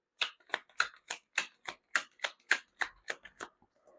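Tarot cards are shuffled and drawn in quick, evenly spaced crisp riffles and flicks, about a dozen sharp papery snaps in a steady rhythm, close by and fairly quiet with silence between them.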